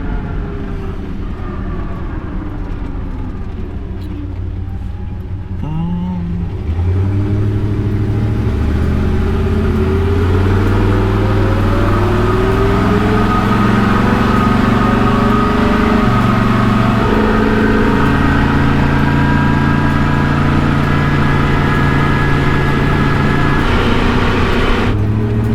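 Steady engine and drivetrain hum of a vehicle cruising at about 40 mph with the drive shaft near 1,500 RPM, a continuous close rumble with shifting tonal layers and no talk.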